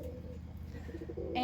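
A pigeon in a loft gives soft, low cooing calls. The murmuring sits close and faint and repeats unevenly, with a brighter brief sound right at the end and no speech.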